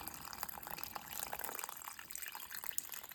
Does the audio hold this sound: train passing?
no